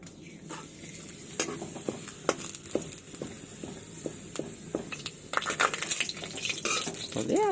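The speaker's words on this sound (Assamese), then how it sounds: "পাপৰটো ভাজি লওঁ।" Papad frying in hot oil in a pan: a steady sizzle with repeated scraping and clinking of a utensil against the metal pan, close and fairly quiet, no talking.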